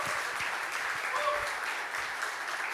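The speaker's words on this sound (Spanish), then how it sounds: "Fuerte ese aplauso al Señor." Steady applause from a church congregation at a Spanish-language Pentecostal-style worship service, dense and continuous for a few seconds, with faint voices mixed in.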